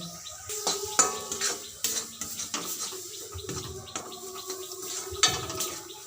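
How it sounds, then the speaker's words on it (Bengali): Pointed gourd pieces are mixed with raw mustard oil and lime juice in a bowl, giving close, irregular clinks and scrapes of a spoon against the dish with soft wet stirring between the knocks. "দিয়ে দেবো কাঁচা সর্ষের তেল দিয়ে আবারও মিশিয়ে নেব"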